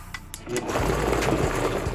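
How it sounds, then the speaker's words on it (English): Blender whirring up a blueberry barbecue sauce, a steady close mechanical drone starting after a few faint clicks and running continuously to the end. "Now we're gonna blend it up to make it nice and smooth."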